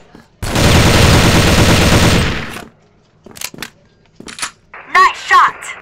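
Loud burst of rapid automatic gunfire in a tactical team shooter game, about two seconds of continuous firing, followed by brief clicks and team voice chat.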